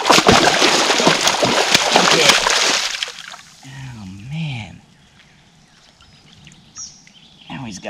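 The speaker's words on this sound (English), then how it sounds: "That one there got quite some energy. Splash in my face." A lively catfish thrashes and splashes in water close by, a loud burst of sloshing for about three seconds that then dies away, followed by a voice and faint bird calls.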